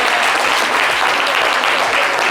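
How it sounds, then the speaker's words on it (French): A studio audience applauding throughout in steady, dense, even clapping from many hands at a constant loudness, with no talking. "On applaudit le temps qu'il arrive."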